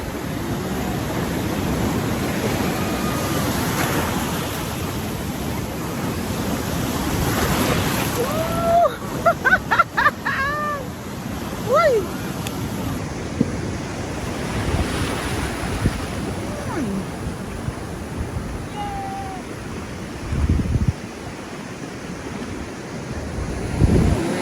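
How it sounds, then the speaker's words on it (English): Ocean waves breaking on Cocoa Beach make a steady roaring wash with heavy wind buffeting the microphone. Children's voices and brief squeals rise partway through. "I didn't like how the waves got so high."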